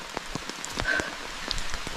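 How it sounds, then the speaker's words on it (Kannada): Steady rain falls in a dense forest, a soft continuous patter broken by scattered close drops and a few sharper splashes, with no voices. "ಮಳೆ ಬರ್ತಿದೆ."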